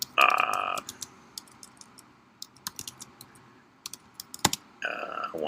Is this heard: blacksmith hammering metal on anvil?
no